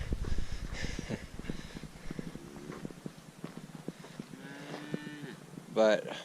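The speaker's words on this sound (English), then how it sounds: "Lots and lots of cows out here." Several cows moo at varying distances on an open Colorado trail, low drawn-out calls scattered through the clip, with faint hoof clopping and a louder, closer moo near the end.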